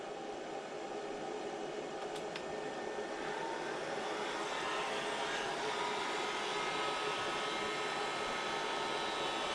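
A heater fan runs on its coldest setting, powered through a Giandel 1200W pure sine wave inverter, producing a steady, even, broadband whoosh that holds unchanged throughout with no talking.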